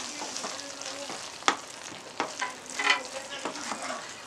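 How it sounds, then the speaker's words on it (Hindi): Okra masala is stirred in a pan, a spoon scraping and clinking against the metal in irregular strokes over a soft sizzle, close and fairly quiet with no talking. "अच्छे से मिक्स करेंगे इसे।"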